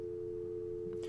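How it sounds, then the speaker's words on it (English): An in-game phone dial tone in a video game, a steady continuous electronic hum at one pitch, fairly faint, with a brief soft noise near the end and no talk. "the dial tone on the phone in-game started playing"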